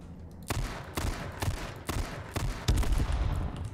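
Magnum revolver fire in the video game H1Z1 sounds as a run of six loud, booming shots spaced roughly half a second apart, each with a heavy low-end thump and short decay.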